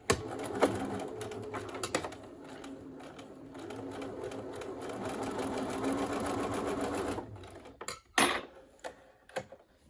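A sewing machine runs in a continuous burst stitching down the pleats of a fabric face mask, preceded and followed by short clicks and handling taps.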